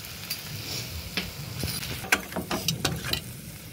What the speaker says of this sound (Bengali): আধা চামচ জিরে গুঁড়ো দিয়ে ভালো করে আগে নেড়ে নেব।